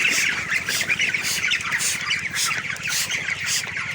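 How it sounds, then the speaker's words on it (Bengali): Farm chickens suffering from a cold, in chilly weather, make repeated short sneezing squawks in quick, overlapping bursts, fairly close and loud. "মুরগিগুলো হাসি দিচ্ছে বারবার"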